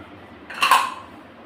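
Chopped onions and tomatoes tipped into a metal pot of soaked toor dal for sambar, a single short clatter of utensil on metal, close and fairly loud over a quiet background.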